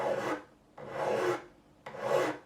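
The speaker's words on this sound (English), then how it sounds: "I will go down here with a file just to make sure we've got nothing sticking out over here." Steel file rasping across the fret ends of a Yamaha APX 500 acoustic guitar during a refret, three long even strokes with short pauses between, close and clear with no talking.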